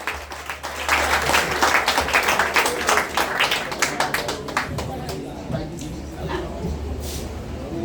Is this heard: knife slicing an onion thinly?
no